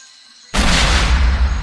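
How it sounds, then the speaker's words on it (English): A sudden loud boom bursts in after a quiet moment, followed by a sustained heavy rumbling blast from a game cannon. "I'd better fire the cannon."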